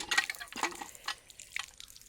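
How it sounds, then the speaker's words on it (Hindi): Water running and dripping from a hand pump on the way to the Satkumbha Shiv temple in Yamunanagar, with a few splashy pours and drips, close and fairly faint. "तो इसको चला के जल पियेंगे अभी हमारे चेतन जी"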